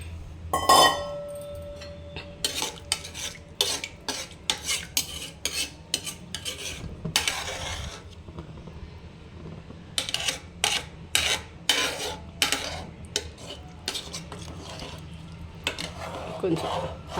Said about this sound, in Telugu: కొంచెం అలా తిప్పితే అన్నీ కిందనే ఉండిపోకుండా కొంచెం కలుస్తాయి